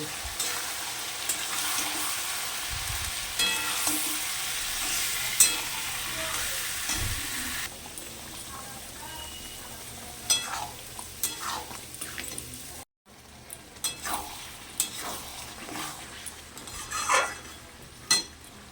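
Spice paste with chili powder sautéed and stirred for an egg curry, a steady sizzle with scraping utensil clicks and pan knocks, louder at first and then breaking into intermittent stirring strokes.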